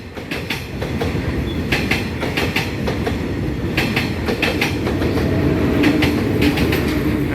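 Train rolling through a railroad crossing on Ranong 1 Road after leaving Bangkok station, with a steady rumble and repeated rhythmic clickety-clack wheel beats over the rail joints, moderately loud and close, no voices.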